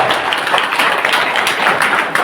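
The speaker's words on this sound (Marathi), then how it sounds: "सगळ्यांनी त्या जोरदार टाळ्या" Loud, dense applause from a crowd at a village gathering in Maharashtra, cheering a newly elected group leader; steady clapping fills the whole moment with no pauses.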